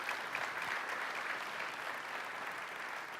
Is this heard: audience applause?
yes